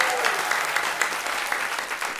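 A live audience claps for the judges at a comedy show, a dense, even round of applause from a crowd heard throughout the brief moment.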